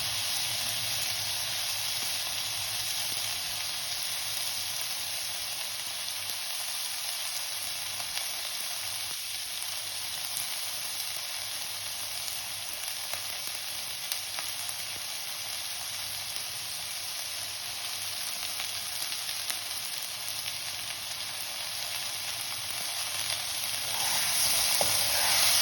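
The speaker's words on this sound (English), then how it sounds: "Around 4 to 5 minutes, you just keep frying it." Green peas frying in a pan over a high flame, a steady, loud sizzle with an even hiss that continues unbroken and swells slightly near the end.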